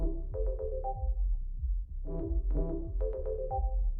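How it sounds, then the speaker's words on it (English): Phone ringtone in the video game Dead Take: a synthetic melodic tone pattern with repeated descending plucked notes over a deep pulsing bass, played in a looping rhythm. "this ringtone is incredible"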